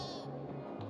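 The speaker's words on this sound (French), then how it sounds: "Attends, il y a le mouton là quelque part." Sheep bleating in the video game Dying Light 2, a short wavering cry lasting under a second and then rising again at the end, fairly loud over a steady game background.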